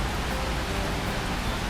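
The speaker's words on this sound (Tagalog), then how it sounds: "Today is a rainy day here in Manila." Heavy rain falling in Manila, a dense and steady hiss of downpour with no breaks, filling the brief moment without any voices.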